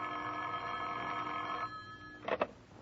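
A telephone bell rings in an old radio drama, a steady metallic trill held for over a second, then a pause and a couple of short clattering knocks as the receiver is picked up, fairly quiet overall.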